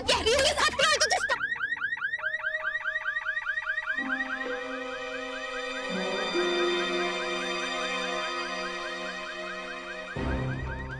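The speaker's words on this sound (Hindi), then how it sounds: "अरे तो इनकी गाड़ी का अलार्म ये अचानक कहाँ से बजने लगा?" Car alarm going off nearby, a rapid repeating warble that steps through changing tone patterns for several seconds before cutting off abruptly.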